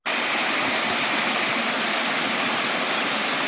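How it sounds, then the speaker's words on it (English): A creek in a state park feeding the Clarion River, rushing water giving a dense, steady broadband hiss, close and loud, unbroken from start to end. "It's a beautiful creek, and it flows right into the Clarion River."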